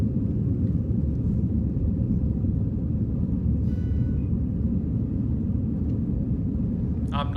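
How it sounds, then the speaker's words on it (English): A passenger airplane taking off, its engine rumble a steady loud low roar filling the cabin throughout, while a person talks over it. "Yeah, this is liftoff."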